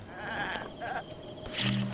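A goat in the video game The Legend of Zelda: Breath of the Wild gives a few short, nasal bleats close by, over quiet game ambience.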